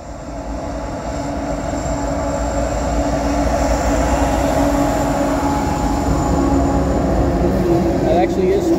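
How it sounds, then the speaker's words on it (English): A CSX freight train rolls past with a locomotive leading, its steady, loud rumble and wheel noise filling the scene throughout, with a brief higher squeal near the end and someone talking over it. "Third time I've seen this locomotive lead a train."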